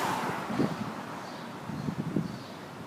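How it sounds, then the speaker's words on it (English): Gusty thunderstorm gust front wind in New York City buffeting the microphone, a steady broadband roar with two stronger surges, fairly loud and close, no voices. "And that's the gust front."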